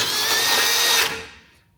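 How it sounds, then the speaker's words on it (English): A power drill with a 6.8mm bit whirs loudly and steadily for about a second drilling a hole in a BMW G82 M4 Competition chassis, then spins down and fades to quiet. "and then I'm going to drill this hole."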